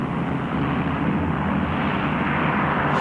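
Engine of a Dauntless carrier-based dive bomber in a Battle of Midway setting, a loud, steady, continuous roaring drone that holds evenly throughout.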